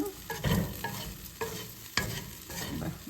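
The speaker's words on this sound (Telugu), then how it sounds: "అదే మనం పచ్చి కారం వేసాం కదా, కొంచెం వేగాలి ఈ కారం కూడా" Chili powder frying in a pan for a bitter gourd and jaggery curry, with a steady close sizzle and several sharp scraping stirs of a spoon against the pan.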